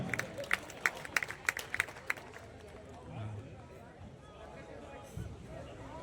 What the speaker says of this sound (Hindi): जोरदार तालियों से आवाज दें श्लेष गौतम जी को